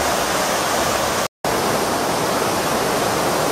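Water pours steadily into a river canalization channel, a dense, loud, even rush with a brief cut of silence partway through.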